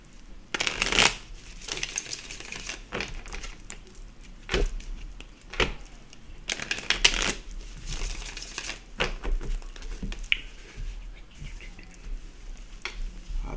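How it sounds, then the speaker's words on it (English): Tarot cards are shuffled by hand in a series of quick riffling bursts, crisp papery flutters separated by short pauses and soft handling noises, close and unaccompanied by speech. "let me just shuffle them, and then I'm going to spread them out"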